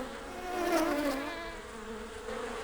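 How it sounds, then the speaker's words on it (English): Cartoon bees buzz in a field of flowers, a steady, droning hum that swells slightly and then holds at a moderate level throughout. "The bees were still buzzing busily from flower to flower in the field."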